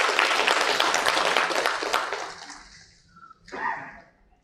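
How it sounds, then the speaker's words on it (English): Summit audience at an SME manufacturers and exporters event bursts into a loud round of applause that fades out over a few seconds, with a brief murmur of voices at the end. "may I request you to have a big round of applause for all of you"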